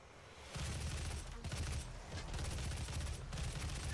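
Constant heavy gunfire and explosions from the DOOM video game, a dense, loud barrage of weapon fire with little pause, filling the whole stretch without any voice.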